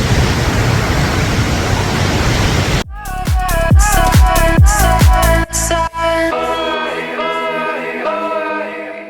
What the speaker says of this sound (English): gotta get myself in the photos, in the video, in the footage with the beautiful Blue Nile Waterfall